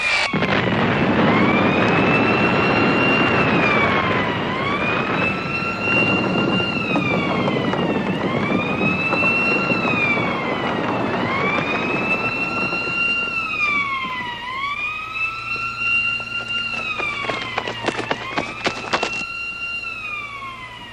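A warning hooter wails in repeated rising and falling sweeps, loud and sustained, with a low rumble beneath and sharp clattering bursts near the end.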